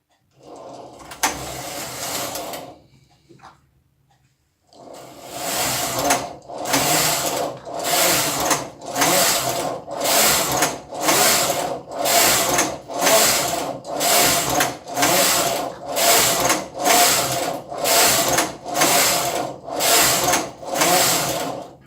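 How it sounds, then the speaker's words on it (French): A domestic knitting machine carriage is pushed back and forth across the needle bed for seventeen rows of a swatch, each pass a loud, close mechanical rasp in a steady, even rhythm after a short burst and a pause. "nous allons tricoter la moitié, 17 rangs"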